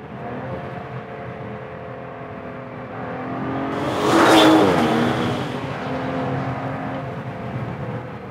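2019 Aston Martin DBS Superleggera Volante accelerating on the road, engine note rising through a steady drone to a loud surge midway, then easing back, heard from inside with wind and road noise.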